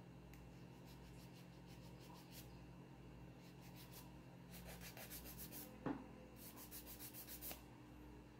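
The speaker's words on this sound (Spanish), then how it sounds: "Y ya esto nada más lo limo para quitarle el brillo, quitarle los residuos de la orilla y listo." A nail file rubs across gel nails in quiet, repeated short strokes, a soft scratchy rasping that comes in uneven bursts close to the microphone.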